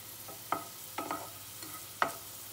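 Onion and capsicum sautéing in a pan for a no-oven chicken pizza, a low steady sizzle broken by four or five sharp spatula scrapes and taps against the pan.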